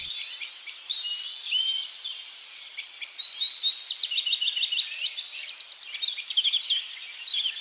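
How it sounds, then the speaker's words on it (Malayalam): Birds chirping in a tree in a cartoon, a steady stream of bright, rapid tweets and trills that grows busier over time with no talking. "ആ മരത്തിൽ നിന്ന് കിളികൾ കരയുന്നത് കേട്ടോ?"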